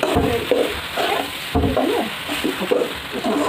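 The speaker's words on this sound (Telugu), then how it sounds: "కాసేపు కలబెట్టుకుంటే" Puffed rice upma being stirred in a pan, a spoon scraping and shuffling the dry grains in repeated strokes with faint sizzling underneath, close and steady, no voices.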